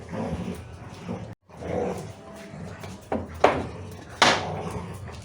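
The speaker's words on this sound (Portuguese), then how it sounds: "Esse barulho aí são os cachorros que estão aqui brincando." Dogs play and bark indoors in a room where a children's wooden toy kitchen is being built, giving a few sharp, close barks and scuffling noises alongside a brief thump.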